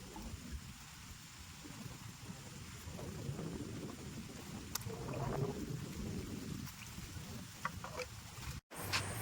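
Sudden wind and rain with thunder during roadside crab fishing, a dense, steady roar of rainfall and gusts with low rumbling, with faint voices buried underneath.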